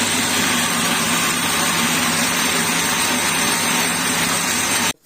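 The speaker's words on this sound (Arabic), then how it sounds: "وهنجيبنا الخلاط اهوت، وهننزل بقى حبه حبه وهنضربهم" Peeled orange pieces whirl in a kitchen blender for juice, a loud, steady motor whine with churning that runs unbroken and close up until it cuts off abruptly at the end.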